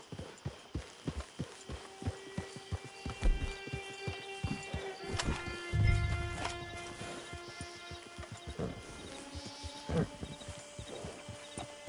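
Horse hooves clip-clop in the Red Dead Online game, a steady trotting rhythm close by. A low rumble and a faint whinny-like tone come midway, with soft game sounds layered underneath.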